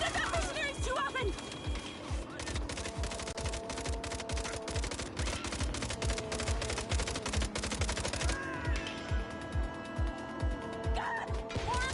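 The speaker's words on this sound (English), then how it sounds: "you don't hear about Saints firing machine guns at mercenaries too often" Machine gun fire in the Saints Row video game, dense rapid bursts of gunfire running continuously alongside mechanical clatter and game sound effects, with voices speaking over the shooting.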